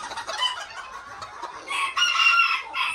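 Azteca bantam chickens clucking and calling in a coop, a busy run of bright, close clucks with louder bursts toward the end, no talking.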